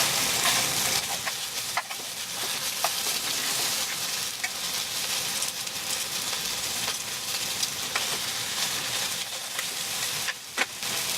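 Chicken pieces sizzle steadily as they brown in a hot pan, a constant close crackle with occasional spits and pops.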